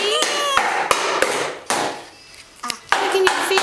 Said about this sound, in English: No, you don't hammer anywhere near the baby, okay?